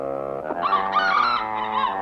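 Improv performers clucking and squawking as chickens, a human voice imitating the birds with rising, wavering honks and cackles that run continuously for a couple of seconds.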